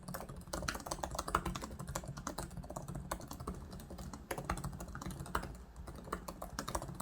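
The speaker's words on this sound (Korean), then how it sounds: "타건 한번 보여드릴게요." Light, quiet typing on the keyboard of a Samsung Galaxy Book Flex2 5G laptop, a fast, continuous patter of soft key taps close by, with no voices.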